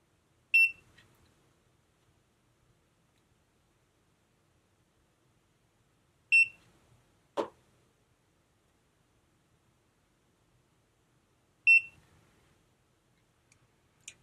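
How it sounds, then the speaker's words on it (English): Battery-powered hair waver emitting short high beeps, three separated chirps spaced several seconds apart, clear in a quiet room with a brief louder click or rustle between them. "I'm gonna shut up where you can hear the beeping"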